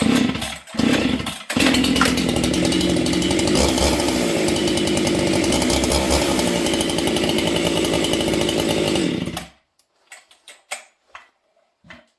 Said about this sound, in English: Choke it. It's a good starting saw.